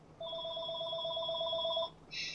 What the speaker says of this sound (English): No, phone! I will not answer you!